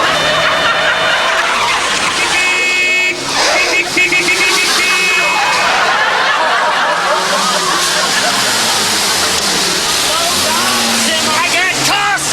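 Car engine driving in four-wheel drive over rough ground, a loud continuous rumble with shifting revving and tyre noise throughout, with people talking over it.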